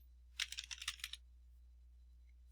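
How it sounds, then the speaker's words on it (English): Quick burst of typing on a computer keyboard while searching in Revit software, a rapid cluster of close, crisp clicks for about a second, then quiet. "what I've been doing is typing in the search box here. I typed rigid."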